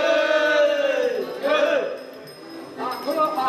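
A group of voices shouts together in a sustained, drawn-out cry at a Romanian folk performance with sleigh bells, fading and then rising again, fairly close and loud.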